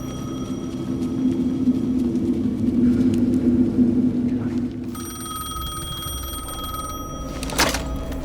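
A telephone rings inside the game Alan Wake 2, a steady electronic trill over a low ambient rumble that persists throughout, with a sharper burst near the end.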